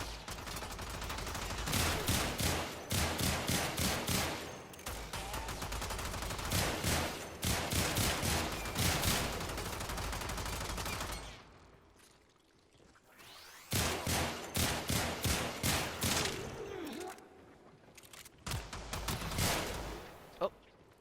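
Sicarus Prime pistol fire in Warframe: rapid, loud bursts of shots in quick rhythmic volleys, pausing briefly around the middle before resuming with more scattered shots toward the end.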